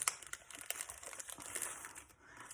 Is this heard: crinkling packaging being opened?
yes